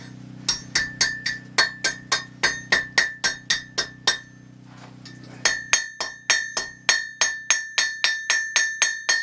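Steady, ringing hammer blows on hot iron at a blacksmith's forge as a coat hook is shaped, about fifteen strikes, a brief pause, then another fast run of clanging hits, close and loud with metallic overtones.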